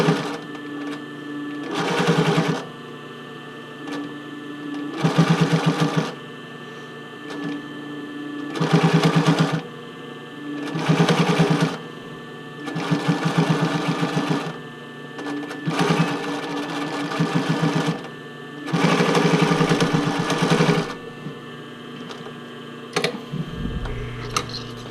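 Sewing machine stitching casing onto a bra fitting band, running in repeated bursts of rapid mechanical whirring separated by short pauses, loud and close with a steady hum between runs.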